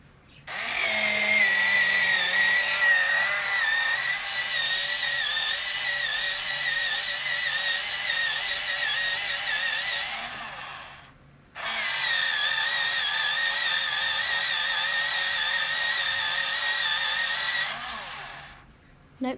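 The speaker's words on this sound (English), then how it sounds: "if you don't want to hear the noise of this battery-powered sharpener, please turn your volume down" A battery-powered pencil sharpener whirs in two long, close, loud bursts of high buzzing grind, separated by a short pause, with no talk over it.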